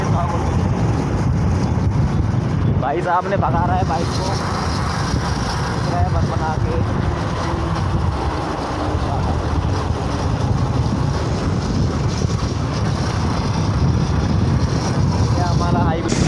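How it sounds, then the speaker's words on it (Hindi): A motorbike speeds along a highway near Pithampur, Indore, giving steady, loud engine and wind rush throughout with someone talking over it. "भाई साहब ने भगा रहा है बाइक को"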